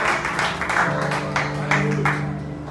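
A church congregation claps and applauds steadily, with a low murmur of voices and background hum beneath the clapping.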